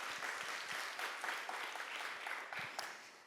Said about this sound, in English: So please join me in a round of applause to celebrate that and recognize them.